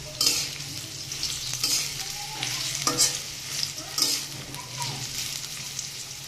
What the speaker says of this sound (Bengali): কিন্তু কচুটা একটু বেশ ভালো করে ভাজতে হবে